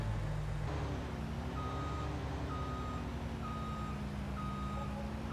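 A truck in Farming Simulator 20 sounds evenly spaced reversing beeps over a steady low engine rumble, with an air-brake hiss near the start.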